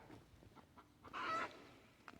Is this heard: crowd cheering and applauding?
no